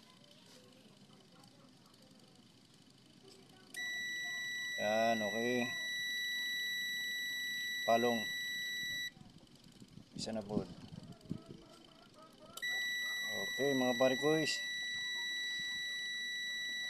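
A washing machine repair: a continuity tester on the timer wire gives several sustained electronic beeps, each lasting a few seconds, while someone talks close by between and over the tones.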